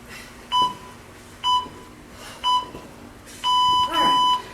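Electronic workout interval timer beeping in a gym class, giving three single beeps spaced about a second apart and then two longer, louder tones, clear and close.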